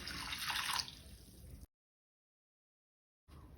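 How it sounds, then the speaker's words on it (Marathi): Flattened rice (poha) being rinsed in water for a Goan poha kheer gives a close, steady watery splashing and sloshing for about a second and a half, then cuts off abruptly into silence before resuming faintly. "फोव 2 वेळा उदकान धुवून घेवया।"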